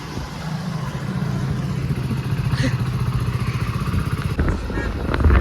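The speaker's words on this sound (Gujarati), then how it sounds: "ઓજી ચલાવતા નથી હો બાઈક રાધેવંશુ ઉડાડો છો યાર" A motorcycle engine drones continuously while riding through a crowded area, its pulsing mid-range hum swelling slightly toward the end, with passing traffic noise around it.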